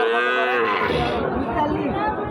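A loud, close moo from cattle at a livestock market sweeps down in pitch over a couple of seconds, with market chatter around it.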